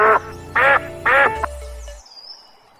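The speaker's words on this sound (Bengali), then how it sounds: "যে শব্দটি সবচেয়ে বেশি শুনতে পাওয়া যায় আর তা হলো হাঁসের ডাক" A duck quacks three times in a steady rhythm, loud and close, followed by quieter fading background sounds, in a quiet village of winding canals and small wooden bridges.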